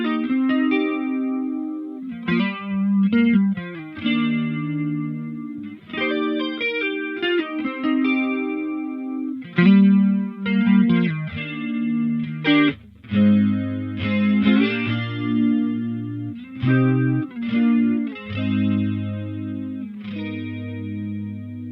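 Electric guitar notes and chords ring out through a Laney Lionheart Foundry Super 60 amp's modulation effect at high intensity, heavy and wobbling, the tone warbling intensely with some distortion, played alone without talking.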